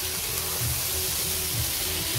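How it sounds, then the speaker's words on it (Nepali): Prawns, Nepali-style seafood, sizzling in hot oil in a pan, a loud dense hiss held steadily throughout, close up with low clatter underneath. "झिँगा माछा हाल्यो, पकेला पनि भुट्ने"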